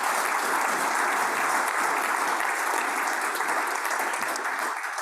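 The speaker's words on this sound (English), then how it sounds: "Another round of applause." A conference audience applauds steadily, a dense, loud wash of many hands clapping that holds evenly throughout and fades slightly at the end.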